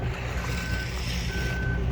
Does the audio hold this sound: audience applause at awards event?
no